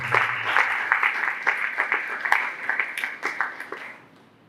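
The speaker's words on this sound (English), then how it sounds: "let's give them a round of applause." An audience at a community health and education event, welcoming mental health ambassadors, claps steadily in a scattered, lively patter that thins out and fades toward the end.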